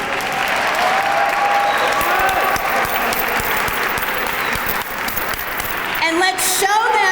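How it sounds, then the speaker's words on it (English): Audience applause for student performers at a school staging of The Wiz, sustained dense clapping from a large crowd, with cheering and voices mixed in and a bright whoop rising near the end. "So everyone, please let's give our students a round of applause."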